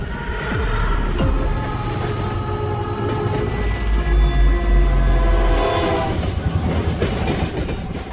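A VOC-era train emerging from a portal, rendered as a continuous rumble of a passing train with rail clatter and a horn-like tone, loud and steady with no voices.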